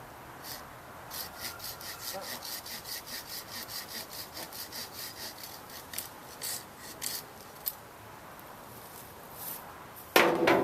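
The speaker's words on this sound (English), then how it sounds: "we're gonna start cutting out the thick stuff here. Handsaw" A handsaw cuts through wood in steady back-and-forth rasping strokes, fairly quiet and close, ending with a sudden louder clatter.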